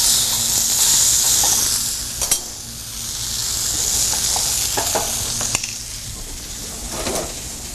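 Apples and pork sauté in grease in a pan with a loud, close, continuous sizzle that swells and eases, broken by a few sharp clicks and knocks from stirring.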